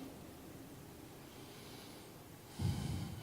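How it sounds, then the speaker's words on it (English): A person inhales once, a soft close breath that swells near the end after a stretch of quiet room hiss. "Notice there's a breathing in"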